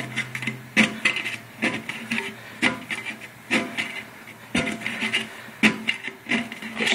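A 5-in-1 painter's tool is pressed and scraped around the seam of a paint bucket lid, giving repeated loud creaking, ratcheting scrapes in an uneven rhythm, close up and without talk.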